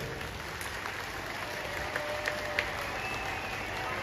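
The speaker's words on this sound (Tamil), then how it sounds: "ஒரு நல்ல கைதட்டல் கொடுங்க" An audience applauding at a school event, heard as a steady wash of clapping that stays fairly even throughout, slightly distant, with no talking over it.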